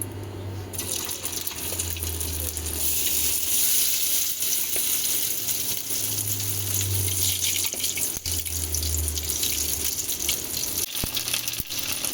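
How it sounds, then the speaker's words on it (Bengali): Soybean chunks frying in hot oil, a steady, continuous hiss and crackle that stays loud and even throughout, with a low rumbling hum pulsing underneath; no voices. "তেল এখানে গরম হয়ে গেছে, এবার আমি সয়াবিনগুলো দিয়ে ভেজে নেব।"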